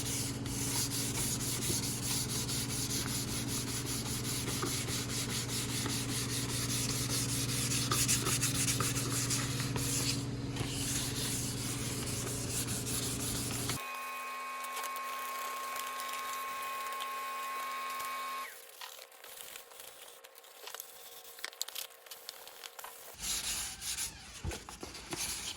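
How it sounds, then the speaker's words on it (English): Hand sanding of an RC airplane with fine 2000 grit sandpaper: steady, close rubbing and scraping that continues for most of the clip, then shifts to a quieter, more tonal stretch with lighter intermittent rubs near the end. "The reason I'm doing this one by hand is just so I can get into all the small final spaces."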